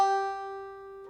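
A single plucked banjo fifth string tuned to G rings out clearly, a bright, bell-like tone with rich overtones that starts with a sharp attack and slowly fades over about a second.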